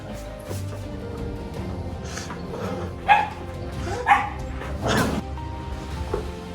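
A few short dog barks and yips at moderate distance, spaced apart over quiet background noise.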